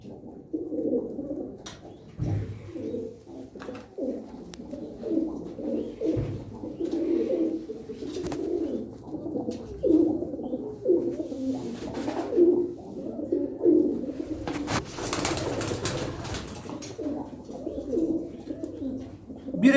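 Pigeons coo repeatedly in soft, throaty rolling calls close by, with occasional rustles and knocks in between.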